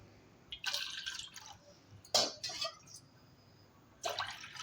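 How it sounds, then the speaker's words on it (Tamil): Water poured from a tumbler into a pan in a kitchen, heard as three short splashing pours with quiet gaps between them, close by and with no talk. "அதுக்கு 2 டம்ளர் தண்ணி ஊற்ற போகிறேன்"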